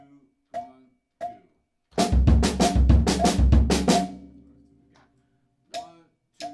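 A drummer plays a clave pattern with the hands as a run of sharp, rhythmic hits over low bass-drum thumps, framed by someone talking before and after.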